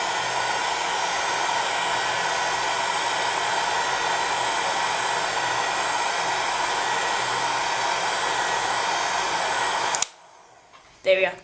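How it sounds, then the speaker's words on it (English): A heat gun blows hot air over polymer clay, a loud, steady roaring hiss that runs for about ten seconds, then cuts off abruptly, leaving near silence with a couple of brief bumps. "So I'll bring over the heat gun and warm it a little bit more."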